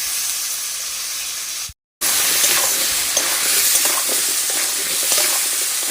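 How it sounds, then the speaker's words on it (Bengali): Taro chunks frying and being stirred in a pan with ginger paste, salt and turmeric, a loud close sizzle with scraping stirs, cut by a brief silent gap before the sizzling resumes. "এবার কচুটাকে ঢেলে দেবো, দিয়ে 10 মিনিট ভালো করে মশলার সঙ্গে কষিয়ে নেব।"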